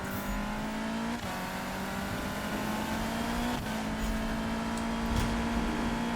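A Toyota AE86 engine in Need for Speed 2015 holds a loud, steady rev while drifting, with a sustained drone and small surges throughout.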